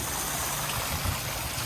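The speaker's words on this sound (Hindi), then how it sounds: "ये वाटरफॉल है" A small mountain waterfall in the Neelum valley of Kashmir rushes steadily as a close, continuous broadband roar of falling water with no pauses. Nobody talks.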